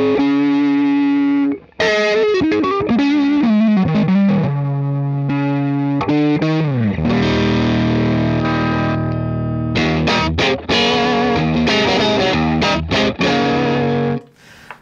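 An electric guitar plays through a Jackson Audio Golden Boy overdrive pedal, producing loud, gritty, saturated chords and riffs with a brief pause near the start and sustained distorted ringing, played alone without talk.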